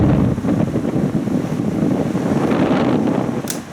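A large vintage Sanyo Dynamic Wide oscillating fan runs close by, giving a loud, steady rush of blowing air like heavy wind across the microphone, with no talk.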